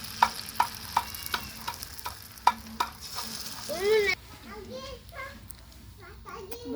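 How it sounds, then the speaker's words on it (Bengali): Drumstick-flower fritters fry in hot oil with a close sizzle and rhythmic ladle taps. Children's voices then take over and the frying stays quieter beneath them. "এভাবে ভেজে নেব বাকি বড়াগুলো।"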